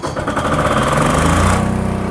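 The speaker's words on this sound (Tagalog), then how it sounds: "10 kVA na Allen na generator na diesel operated" A 10 kVA Allen diesel generator cranks and catches, its rapid thudding engine beats loud and close, then settling into a steady running chug.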